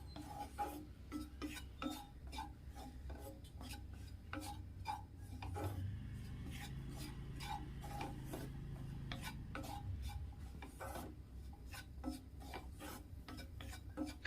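Grated coconut, shallots and curry leaves dry-roasting in a pan for brinjal curry, with a spoon scraping and stirring in rhythmic rasping strokes, close and quiet, no talk.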